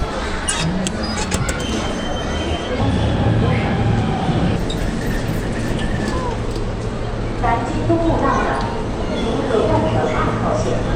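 A Shanghai subway train carries riders, a steady low rumble and hum of the carriage with occasional clinks and rattles, while people talk nearby throughout.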